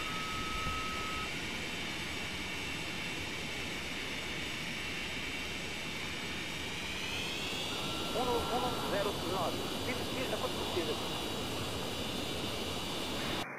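Cessna Citation X jet taking off in Flight Simulator X, a steady loud engine roar whose pitch rises partway through, with radio voices talking over it.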